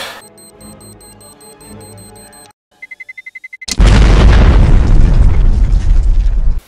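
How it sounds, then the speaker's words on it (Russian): A Counter-Strike bomb ticks in a fast series of beeps after a quiet stretch, then detonates in a loud, booming explosion that rumbles on to the end. "установить бомбу и взорвать карту"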